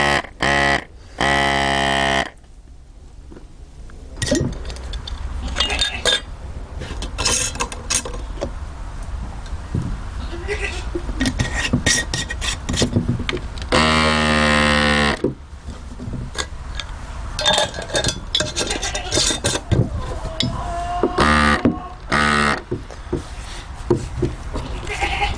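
DIY goat milking machine running on a goat, its suction pump making a steady rhythmic ticking pulse throughout, with goat bleats rising over it at moments.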